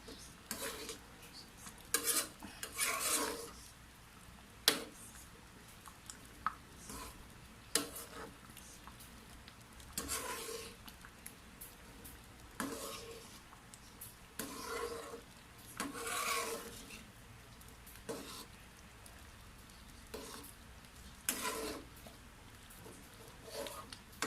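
A spoon stirring and breaking up cooked rice in a pot for arroz caldo, making faint, irregular scrapes and taps against the metal with quiet gaps between strokes.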